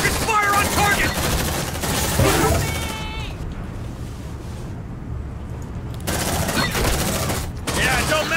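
Squad gunfire erupts in the alien shooter Aliens Dark Descent, dense bursts of rapid automatic fire up close with sci-fi weapon chirps, dropping to a short lull before the shooting resumes loudly.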